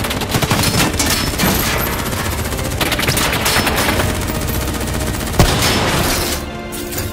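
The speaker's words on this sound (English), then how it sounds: "Who's shooting?" Sustained automatic gunfire in Call of Duty: Black Ops III, a dense continuous fusillade of rapid shots with a sharp louder crack near the end before it thins out.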